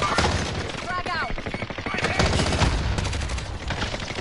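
Sustained automatic gunfire in a tactical shooter video game, heard as dense, rapid cracks and bursts layered over one another, with players' voices talking over the shooting.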